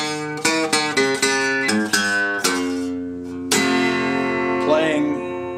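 An acoustic guitar plays the ending lick of a blues song from the G blues scale: a quick run of crisply plucked single notes, then a ringing sustained chord that fades, with a brief bent note near the end.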